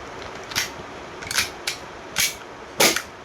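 An E&C Glock 18c airsoft pistol, previously damaged by silicone oil, firing five sharp, snappy shots at uneven intervals, close and fairly loud over a quiet background.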